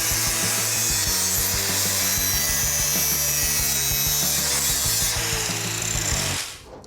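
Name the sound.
grinder cleaning up edges of cut car floor section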